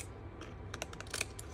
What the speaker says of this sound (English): Now grab your scissors